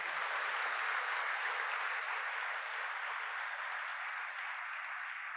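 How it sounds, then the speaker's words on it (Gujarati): A large gathering at a BAPS religious discourse gives a steady, dense roar of applause that stays even throughout, heard from a distance, with no voices over it. "એ લોકો માટે જોરદાર તાળીઓ પાડી દઈએ."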